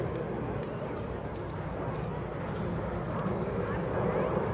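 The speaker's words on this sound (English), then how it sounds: "As you can see, the C-17 is extremely maneuverable at both high and low speeds" A C-17 Globemaster III military jet flies a demonstration at EAA AirVenture 2025, its engines producing a broad, steady roar heard from a distance, with an announcer speaking over it.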